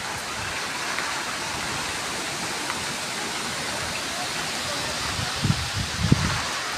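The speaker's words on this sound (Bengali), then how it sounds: "দেখতে পাচ্ছেন জলেতে কেমন গুড়ি গুড়ি বৃষ্টির জল পড়ছে দেখুন" Light drizzle patters onto the surface of a pond as a storm begins, a steady soft hiss of fine drops on water with a few brief low thumps near the end.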